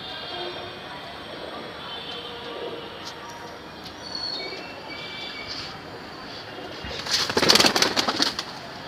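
Saharanpuri breed pigeons with butter-ice eyes coo softly against a steady background hiss, and a louder rustling burst follows toward the end.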